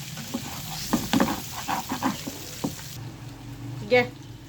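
Rohu fish heads frying in a pan give off sizzling and spattering as they are turned, with scraping and clattering stirs and bursts of oil pop; a brief voice comes through near the end.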